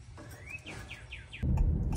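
A small bird chirps in the morning, a rising call followed by a quick run of four bright descending chirps, then a louder burst of low rumbling noise takes over near the end.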